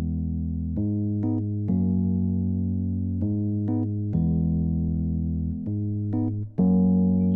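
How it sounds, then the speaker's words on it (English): A Lounge Lizard electric piano patch plays mellow sustained chords that change every second or so, warm and close, with a brief dip before the final chord. "So I picked the first sound, lounge lizard, sounds like this."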